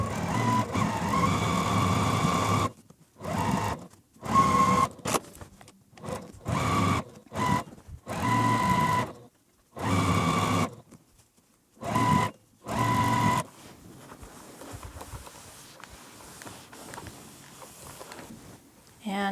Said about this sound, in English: now we can take this to our sewing machine and sew down both of these edges